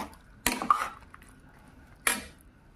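Jujube pickle being stirred in a pan, two distinct scraping clinks of a utensil against the metal pan with a soft squishy sound between them, close and fairly quiet with no talking.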